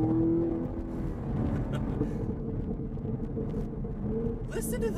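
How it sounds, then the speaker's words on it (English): A 2019 Chevrolet Camaro SS V8 exhaust rumbles and revs close by, a deep, steady burble that swells slightly, heard with voices talking over it. "I swear to you, this exhaust sounds different than they used to."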